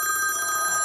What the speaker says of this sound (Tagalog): Mukhang telepono talaga.